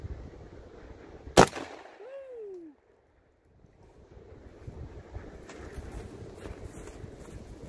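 A shotgun fires a 3-inch double aught buckshot shell outdoors in snowy, windy conditions, giving one sharp, loud blast early on, followed by a short fading echo, then wind noise.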